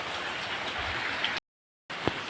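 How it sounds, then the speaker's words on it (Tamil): Steady rainfall on a village, a dense even hiss of falling drops that cuts out completely for about half a second, then returns with a couple of nearer splashes. "எங்கள் ஊரில் நல்ல மழை"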